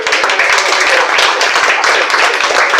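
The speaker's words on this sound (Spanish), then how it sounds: "aplaude aquí los amigos" A church congregation claps loudly and steadily through a worship service, a dense wash of many hands with a fast rhythmic pulse and a voice faintly mixed in.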